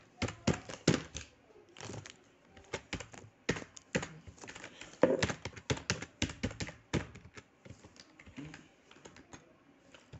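Someone typing on a computer keyboard while writing a post into a web editor, with quick uneven bursts of close key clicks and brief pauses between runs.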